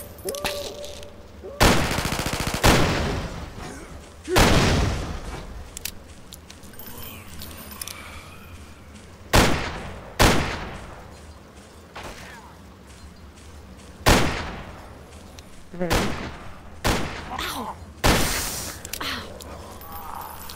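Gunfire in the zombie shooter Zombie Panic! Source, with loud broadband shots going off in irregular single blasts and short bursts over about twenty seconds, some nearer and louder, with background game noise between them.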